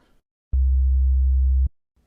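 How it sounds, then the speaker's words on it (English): A pure, deep sine-wave tone from the default patch of the EXS-24 synth plug-in, one sustained note of about a second, clean and loud, alone against silence. "The default setting in that is just a sine wave."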